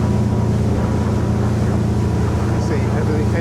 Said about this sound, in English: The engine performing nicely.